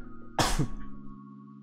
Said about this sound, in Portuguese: até tô espirrando aqui